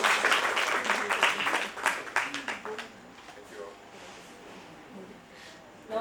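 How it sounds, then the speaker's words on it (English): Audience applause at an intellectual property conference in Delhi during a memento presentation, a dense burst of clapping for about three seconds that tapers off into quieter room sound. "Ladies and gentlemen, please give a big hand of applause."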